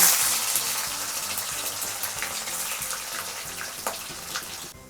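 Paneer pieces frying in hot mustard oil in a wok, a steady hissing sizzle with crackling pops that holds evenly throughout, close and fairly loud, with a low background hum underneath.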